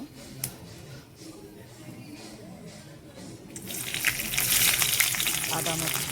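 Bay leaf and cumin seeds dropped into hot oil for a fish curry, a quiet stretch with a faint knock giving way to a loud, bright, sustained sizzle in the final seconds.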